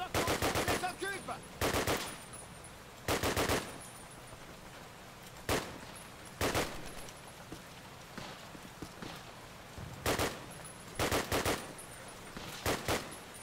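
Gunfire in the video game Call of Duty, repeated loud bursts of automatic shots at irregular intervals over a quieter background.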